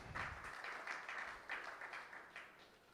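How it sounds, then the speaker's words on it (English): Audience applause at a West African peace and security conference following a keynote address, steady moderate clapping from a crowd that sounds somewhat distant and even throughout. "Let's put our hands together for the keynote."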